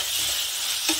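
Soy sauce being stirred into chilli paneer masala in a hot pan, giving a steady close sizzle and frying hiss throughout, with a brief scrape of the spoon near the end.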